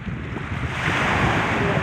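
Sea waves at a beach wash in with a continuous roar and rumble, mixed with wind buffeting the microphone, loud and close with no voices.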